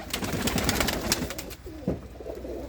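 Desi pigeons of golden, jira, kamagar and teddy breeds coo in a loft, a dense, continuous overlapping chorus of low throaty calls, fairly close, with one clearer nearby coo rising near the end.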